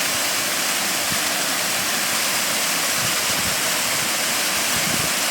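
Steady roaring rush of water at Gürgüre Falls near Yukarı Civanlı village, loud, dense and continuous for the whole stretch, with no voices.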